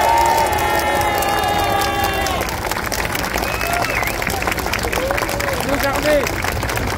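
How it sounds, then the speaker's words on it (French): A large crowd at an outdoor rally in support of France's police claps and cheers in a continuous, loud wash of applause, with voices rising through it. "un tonnerre d'applaudissements pour nos policiers et nos gendarmes"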